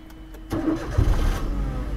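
A car's engine cranks and catches during a first-day driving lesson, a brief starter whir followed by a low, steady idle rumble, close by and without talk.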